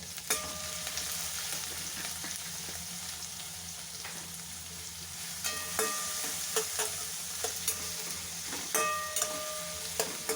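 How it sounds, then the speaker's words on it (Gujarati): Onion, tomato and capsicum sauté in a hot pan, a steady close sizzle with intermittent clinks and scrapes of a stirring spoon against the metal, no talking. "હવે આને થોડું સાંતળી લઈશું"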